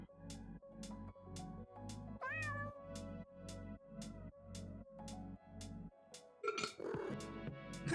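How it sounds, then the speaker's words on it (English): A house cat meows repeatedly in a steady series of short, close calls, one rising more sharply near the middle, followed by a louder burst of rustling and clatter at the end. "I need to get some of Calcifer's meows in there."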